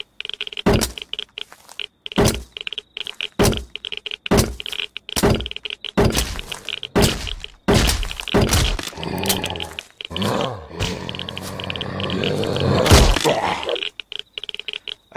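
Silenced Beretta pistol shots in the video game Rust, a dozen or so sharp muffled thumps spaced a second or so apart, loud and close over a dull background rumble, with no talking.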